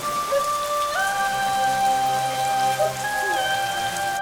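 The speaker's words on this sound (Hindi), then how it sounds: "इसने पूरी रात बाहर बांध दिया और बारिश में भीग गया अपना डिंगा।" Steady rain hisses outdoors overnight as a constant wash of noise, with sustained tonal notes like background music layered on top and no talking.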